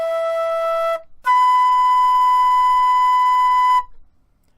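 Flute playing conventionally fingered notes, a low E then sustained middle E and high B, as clean pure held tones with a brief gap between them, alone and fairly quiet.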